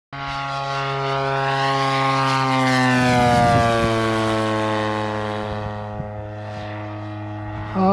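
A Great Planes Extra 300S RC airplane with a propeller engine makes a loud, buzzing pass overhead, its pitch sliding downward as it swells and then fades away.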